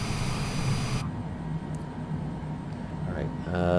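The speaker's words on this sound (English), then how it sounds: "the right engine's up now too" A jet airliner's engine runs steadily after startup, heard from inside the cockpit as a constant whine and rumble, with an abrupt shift in the noise partway through and faint tones near the end.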